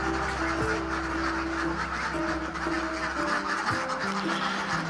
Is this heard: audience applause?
no